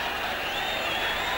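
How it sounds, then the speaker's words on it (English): A loud crowd roars steadily in the stands at a Nepal versus Namibia World Cricket League match, a dense, continuous wash of cheering and noise with no break. "Crowd has gone very loud here."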